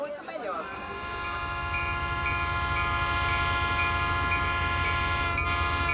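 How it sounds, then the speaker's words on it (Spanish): A train horn blares long and steady over the rumble of the departing Expreso Oriental passenger train in Bolivia, with a rising mechanical drone throughout. "Salida del Expreso Oriental a las 13:20."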